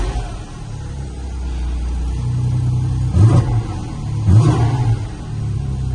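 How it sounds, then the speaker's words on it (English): Porsche GT4 RS with about 7,128 miles, started and revved. A steady mid-low idle carries two sharp, loud throttle blips near the middle, each spiking and then settling back to idle, with no talking. "And sounds like a darn racing car."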